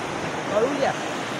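Strong water rushes with a loud, continuous roar, close and steady, while someone speaks over it.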